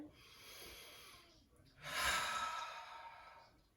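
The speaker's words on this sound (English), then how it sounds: "as I take a couple breaths in" A slow, deep breath drawn in during seated chair Pilates: soft airy breathing that swells into a longer, louder inhale, close to the microphone with no other sounds.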